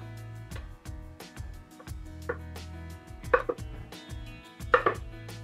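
Knife chopping carrots on a cutting board in a home kitchen, a steady run of crisp, close cuts with a few louder thunks, no talk.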